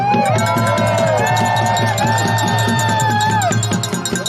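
A loud crowd at a People's Convoy freedom rally cheering, whooping and shouting nearby, with horns blaring steadily through the noise.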